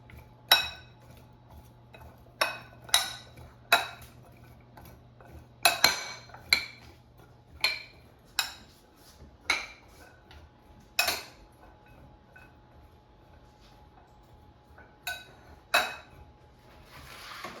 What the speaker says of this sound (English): I'm going to toss it so it's evenly coated in oil and seasonings